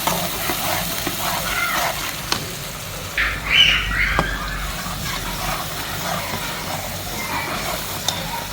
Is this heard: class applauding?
no